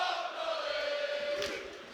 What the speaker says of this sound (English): the crowd serenading Paul Mullin